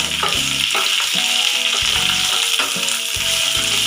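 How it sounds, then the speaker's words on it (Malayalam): Sliced onion sizzling loudly in hot oil with green chillies for poori masala, stirred through with repeated scraping strokes of a spoon against the pan, a steady fry hiss running underneath the whole time. "ഇതിലേക്ക് സവാള ഇട്ട് കൊടുക്കും. നമുക്കൊന്ന് മിക്സ് ചെയ്യും."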